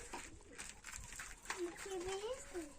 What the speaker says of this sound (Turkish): Hadi gel güvercinlere bakalım artık.